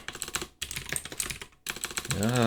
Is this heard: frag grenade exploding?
no